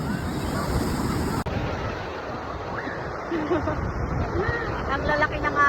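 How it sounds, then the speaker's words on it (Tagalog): Big ocean waves roll and crash at an Australian beach, a steady wash of surf mixed with wind buffeting the microphone. People talk and call out nearby over the water noise. "Ang lalaki ng alon."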